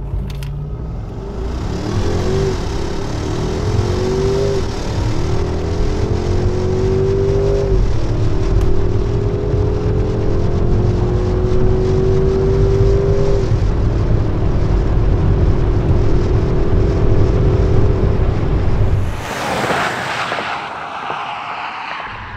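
A 2022 Mercedes-Benz S580 4MATIC launching hard from a brake-boost start, its engine droning and climbing steadily through gear changes for many seconds before cutting off into a brief whoosh of wind, close and loud.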